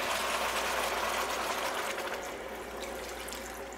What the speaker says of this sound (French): on peut ajouter 400 ml d'eau de coco.